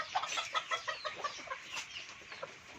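A chicken, an Island Born Benjarong hen, clucks in a quick run of short, close, fairly loud calls with no talking over it.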